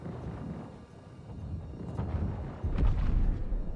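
Heavy booming station cannon fire in the game Invictus 2950, several deep blasts rumbling over one another and growing louder toward the end.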